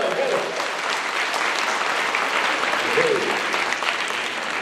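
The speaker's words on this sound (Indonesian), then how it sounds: "Tepuk tangan dulu untuk semuanya, Pak Ibu." Audience applause in an Indonesian leadership seminar hall, sustained and dense from start to finish, with a faint voice showing briefly under the clapping.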